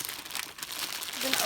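Plastic wrapping crinkling and crackling as a toy package is opened at an unboxing, close and continuous, with a voice rising briefly near the end.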